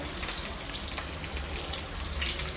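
Chicken pakoras frying in a home kitchen, a dense, continuous sizzle and crackle of hot oil held steady and close throughout, with no voices over it.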